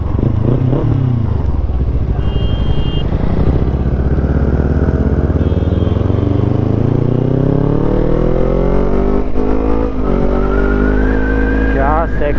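Several motorcycles ride together as a group near Patliputra Junction, a steady layered engine drone with rising revs and shifting pitches throughout, close and continuous, with no clear talk over it.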